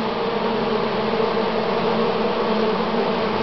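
Honey bees buzzing at their hive, a dense continuous drone of many insects, loud and close with no talking over it.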